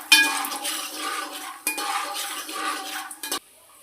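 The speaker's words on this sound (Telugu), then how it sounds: "కొంచెం పల్లీలండి ముందే వేపుకుంటున్నాను." Peanuts fry and get stirred in a pan, making a close, busy scraping and metallic clinking from spoon against pan. The stirring comes in two bursts with a light sizzle underneath, then cuts to silence.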